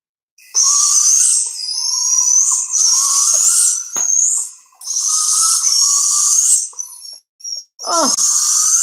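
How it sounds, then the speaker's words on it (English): A baby barred owl gives a run of high, drawn-out hissing screeches, each lasting a second or more with short gaps between them, close and loud, followed by a few shorter calls. "a baby barred owl"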